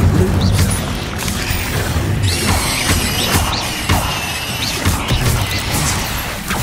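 Incendio fire spell cast during combat in Hogwarts Legacy, a loud burst of crackling whooshes and impacts layered over busy battle noise with repeated thuds and smashes throughout.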